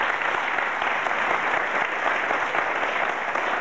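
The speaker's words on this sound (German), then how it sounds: "Ich darf gerne klatschen." A studio audience at a 1996 German television talk show beauty contest claps steadily, dense even applause filling the whole stretch with no speech on top.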